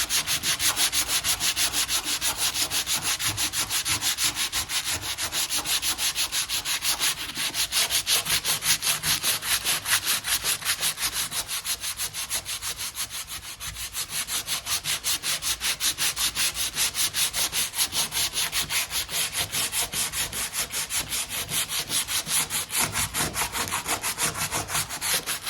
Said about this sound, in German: Und dann nehme ich mir einfach so Schleifpapier,